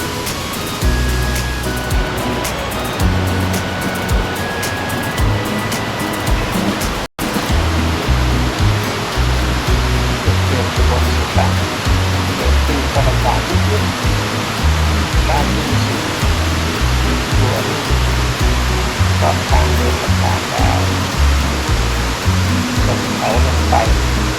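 Sam Lan waterfall in Thailand sends up a loud, steady roar of rushing water that fills the whole stretch, broken only by a momentary dropout partway through.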